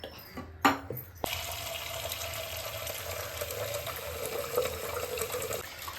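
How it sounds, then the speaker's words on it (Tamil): Toor dal being rinsed in water, with a steady running tap and sink splashing that follows a few sharp clatters of handling near the start, then a continuous close, moderately loud flow. "இந்த தோரம்பருப்பை இது ஒரு 3 தடவை கழுவி எடுத்துக்கலாம்."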